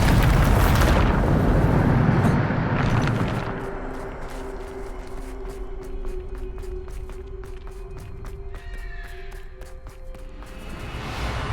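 A Bombarda blast spell goes off in the Hogwarts Legacy video game with a loud, booming burst lasting a few seconds. Tonal game effects and rapid ticking clicks follow at a lower level.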